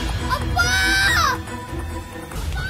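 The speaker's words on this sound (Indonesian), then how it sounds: "Rasu berteriak meminta pertolongan sang ayah." A boy in a film screams for help to his father, a shrill rising wail over loud background noise and commotion, then fading into rough ambient sound.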